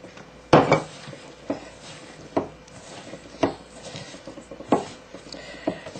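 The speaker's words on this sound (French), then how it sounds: "On va bien mélanger." Chapati dough being mixed by hand in a bowl, with a series of sharp, close knocks and scrapes of utensil against the dish every second or so, separated by softer stirring sounds.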